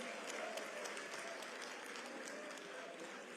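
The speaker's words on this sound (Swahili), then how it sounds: "Mpige makofi huyu mama." An audience at the Azimio Winners Conference at KICC claps in sustained applause, a dense, even wash of hand claps heard from a distance, with faint crowd noise and a voice underneath.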